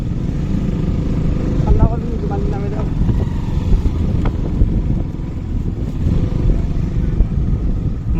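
A motorcycle rides over a rough road on the way to open grassland, giving a steady engine drone mixed with wind buffeting. Its rumble continues throughout while people talk over it.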